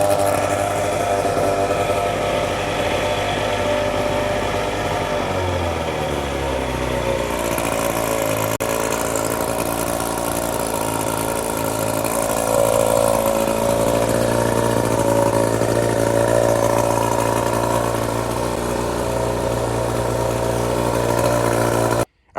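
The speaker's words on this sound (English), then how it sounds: "as you just saw in that last clip, the motor does run" Outboard boat motor running steadily on a 1972 Alumacraft 14-foot aluminum row boat, a constant mid-pitched drone with a slight shift in tone partway through, loud and close, cutting off abruptly at the end.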